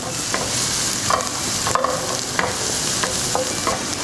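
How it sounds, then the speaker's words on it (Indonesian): Onion, spring onion and garlic sauté in a pan with a steady close sizzle, broken by repeated scraping and clinking strokes of a spatula. "ini kita akan masukin bawang putihnya ya. Kita tumis lagi sebentar sampai wangi."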